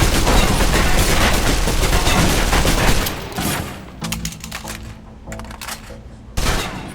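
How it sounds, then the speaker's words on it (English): A submachine gun in the Alpha Protocol video game fires a long, loud continuous burst that empties a full clip, followed by a few scattered shots and a final short burst, with no talking. "Now, let's move on to the submachine gun. Now let's empty the clip."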